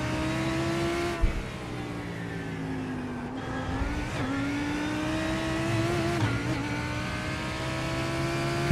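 A GT3 race car engine in a racing video game at Sebring revs steadily and loudly throughout, its pitch rising and falling with gear changes and throttle, with no voices over it.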